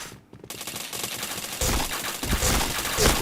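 Rapid video game gunfire crackles in dense automatic bursts, growing louder and heavier toward the end, with shots stacking into a continuous rattling fusillade.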